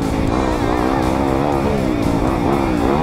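A 2020 Yamaha YZ250FX dirt bike engine revs hard and continuously, its loud, close, buzzing pitch rising and falling without a break.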